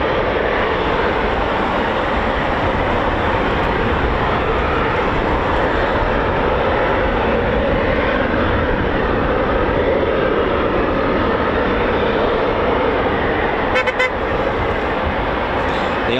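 A Eurofighter Typhoon FGR4 jet at RAF Coningsby, operating on runway 07, gives a loud, steady roar that holds unbroken for the whole stretch with no voices.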